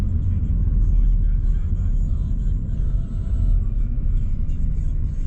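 A car slows to a stop at a red light. Steady low road rumble and engine drone fill the cabin throughout, close and continuous, with no sharp events.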